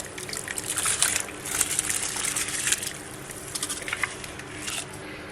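Rice tipped into a pot of water for Sindhi lamb biryani, giving a close, wet splashing and trickling with brief gushes and squishy bursts over about five seconds, no talk.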